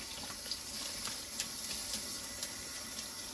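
Dandelion greens being washed in a pan of water, a constant close splashing and swishing with faint drips, no voices.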